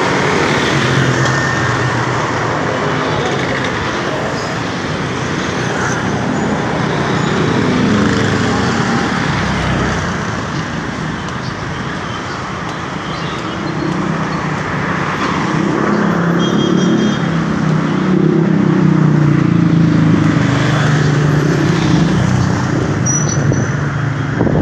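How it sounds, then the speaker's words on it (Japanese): Motorbikes and other vehicles pass steadily along a busy street in Cebu on a morning walk, a continuous broad traffic roar that swells and fades as they go by. "結構バイクが来てますね。"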